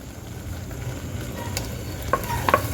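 Tomato paste stirred into a frying masala for Nagpur-style chana poha, a soft continuous sizzle with a few scraping stir strokes near the end.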